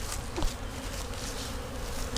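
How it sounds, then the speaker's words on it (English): Stirred-up honey bees swarm at the front of a hive entrance on a sunny spring day, a dense, steady buzzing drone from many insects close by with no talk. "So after stirring all the bees up, this is what we're looking like on the front."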